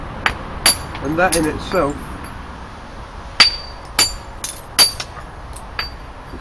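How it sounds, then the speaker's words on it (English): Flint being knapped with a hammerstone while shaping a Neolithic axe head, sharp stony clicks and cracks striking at irregular intervals, close by, with someone talking briefly between strikes. "While you're napping, you'll clearly hear the different acoustic sounds of napping"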